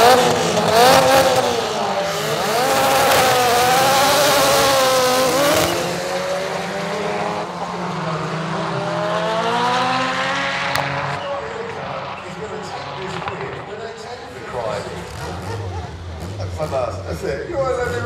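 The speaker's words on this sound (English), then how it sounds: "rear-wheel drive Chevette taking on the 4-wheel drive Golf" Cars revving and launching at a drag race at Santa Pod Raceway, a rear-wheel drive Chevette against a four-wheel drive Golf, with rising engine tones and some tire noise, loud and close under steady talk.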